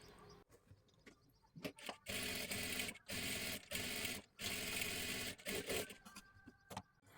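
An electric sewing machine stitches the lining at the back of a blouse in several sustained whirring runs separated by short pauses, close and fairly loud.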